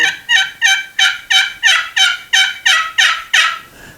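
Rapid gobbling from a high-pitched Merriam turkey call, about ten sharp evenly spaced bursts in quick rhythm, close and loud with nothing else heard.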